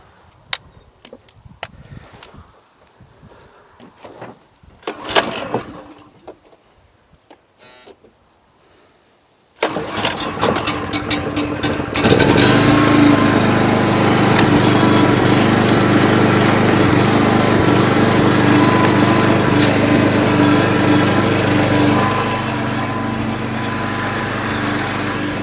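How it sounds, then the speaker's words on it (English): A portable generator powering an RV trailer starts up after a few scattered clunks and handling noises, catching abruptly and then running as a loud, steady engine drone that settles slightly lower toward the end. "Let's turn the generator on."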